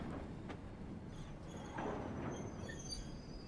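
A train rolls slowly into a branch-line station platform, faint rumbling under high metallic wheel squeals and brief tonal whines, low and fairly distant.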